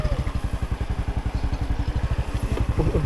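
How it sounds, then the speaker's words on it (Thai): Motorcycle engine chugging in a steady, rapid rhythm as it rides close by through a rural village in the rainy season, loud and continuous. "เจ้าขับมอเตอร์ไซค์เก่งเลยนี่"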